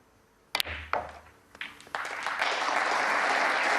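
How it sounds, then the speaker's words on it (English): Warm audience applause at a Scottish Open snooker quarter-final, following a frame-winning break of 73. A few sharp cue-ball knocks and taps come first, then the clapping swells and holds steady and full to the end. "Warm applause for another 73. frame-winning break"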